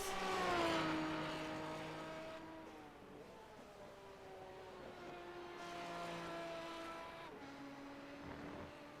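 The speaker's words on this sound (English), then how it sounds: "he's letting the engine whine and that Aston Martin stretching its legs" An Aston Martin sports car in a race lets its engine whine at speed, the tone rising and falling through gear changes as it passes at a distance, fairly faint, with a second swell later.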